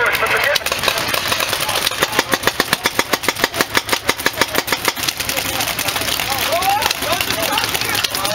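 A tank vehicle's engine at an outdoor Fulda Gap paintball game in Taylorsville, North Carolina, chugging in a rapid, regular pulsing rhythm that swells and settles, with faint voices in the background.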